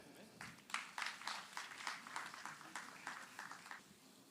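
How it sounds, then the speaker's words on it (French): Audience clapping at a Miss Universe DRC 2025 pageant, scattered and fairly faint, rising and falling in irregular bursts with a few sharper individual claps. "applaudissez pour vous-même"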